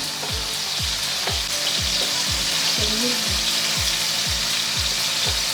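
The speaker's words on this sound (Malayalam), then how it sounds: "പെട്ടെന്ന് തന്നെ നല്ല ഹൈ ഫ്ലെയിമിൽ ഇട്ടിട്ട് വേണം അത് കുക്ക് ചെയ്യാൻ" Small chicken pieces for butter chicken fry on high flame in a loud, continuous sizzle, with a regular low thumping pulse about twice a second running underneath.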